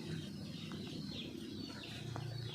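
Native country chickens on a farm cluck and chirp softly amid steady outdoor ambience, with a few faint calls rising over the background.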